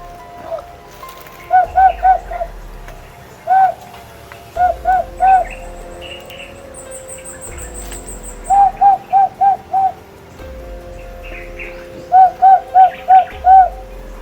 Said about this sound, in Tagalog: may ibon tol na alimokon kung tawagin sa amin